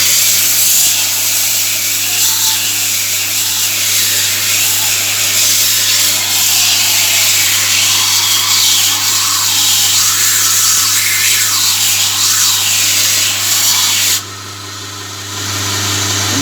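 Coarse abrasive paper sands the welded region of a forged steel spear, giving a loud continuous abrasive grinding rasp with a steady mechanical hum underneath, pulsing slightly with each stroke before dropping off near the end, with no talking.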